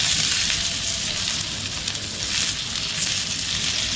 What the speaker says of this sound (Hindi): अनियन, सारे वेजिटेबल्स जो हमने कट करके रखे हैं ये सब हम इसमें ऐड कर देते हैं, और हम इसे अराउंड 2 मिनट तक के लिए फ्राई करते हैं ऐसे।